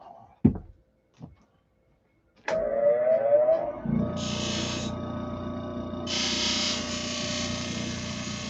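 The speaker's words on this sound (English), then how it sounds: "so I need to sand off" After a few knocks and clicks, a power sander starts up on a door and runs steadily, its loud whirring rasp rising into brighter scraping bursts as it presses against the wood surface.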